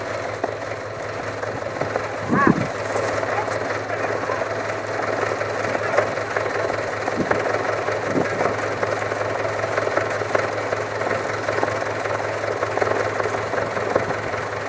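A vehicle engine idles steadily and fairly loudly beside a well while a submersible pump motor is hauled out, with a constant low hum and a few knocks and clanks.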